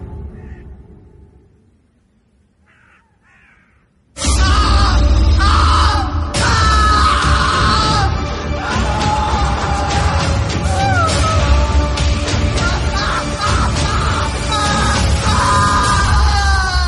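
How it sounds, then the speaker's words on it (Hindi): Loud, echoing screams from a horror story drama burst in after a near-silent opening and carry on in long, wailing yells to the end. "पूरे माहौल में बस कौशिक की चीखें गूंज रही थी"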